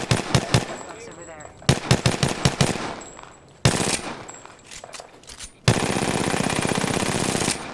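Guns fired into the air in Apex Legends, several loud rapid bursts separated by short pauses, ending in a sustained stretch of continuous fire, close and dominant.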